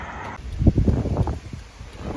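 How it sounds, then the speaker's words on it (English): Strong wind blowing outdoors on the road to Shenandoah, buffeting the microphone in uneven low rumbling gusts that swell and fade over a couple of seconds. "It's too windy out here."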